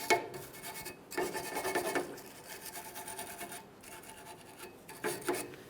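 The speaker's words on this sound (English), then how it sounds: "Let's use a wire brush, some sandpaper," Wire brush and sandpaper scrubbing the steering stabilizer mounting area on a 1994-2001 Dodge Ram 1500, heard as close, rasping strokes in uneven bursts of several seconds with short pauses between them.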